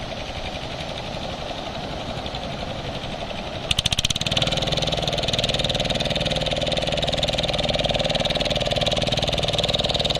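A country fishing boat's engine chugs steadily as the wooden boat heads out from the beach to sea at dawn; a constant close engine drone that grows louder and harsher partway through.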